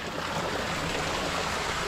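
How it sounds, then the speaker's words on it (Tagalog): Water circulating through a koi pond filter makes a continuous rushing, splashing wash. It stays steady and fairly close throughout, with no talking. "Isa rin yung filter. Nag-circulate na yung tubig."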